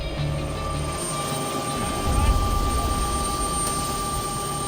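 A rescue helicopter comes in to land, its rotor and engine forming a loud, steady roar with a constant whine, swelling slightly midway and continuing without a break.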